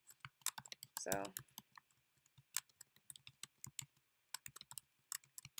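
Computer keyboard typing during a screen-recorded tutorial, with irregular bursts of clicky keystrokes and pauses between them; someone speaks briefly near the start.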